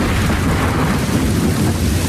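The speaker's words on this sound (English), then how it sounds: "A violent storm is pummeling the island." Violent storm battering an island, with steady loud rain and rumbling thunder filling the whole stretch as a dense, continuous roar without pauses.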